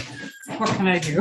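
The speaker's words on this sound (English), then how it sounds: "that's my dog" A dog whimpers and whines briefly indoors, its thin whine rising under a person who is talking close by.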